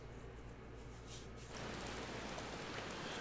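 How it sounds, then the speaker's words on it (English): Rain in the online game Final Fantasy XIV, a soft, steady hiss of falling rain that thickens and grows slightly louder partway through, with no voices. "It's raining, of course."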